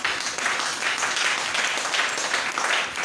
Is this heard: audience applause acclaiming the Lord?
yes